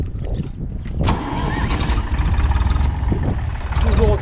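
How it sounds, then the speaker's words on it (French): Renault tractor engine cranking and catching, then settling into a loud, rough, throbbing diesel idle close by, with a voice speaking briefly. "là je vais redémarrer le tracteur"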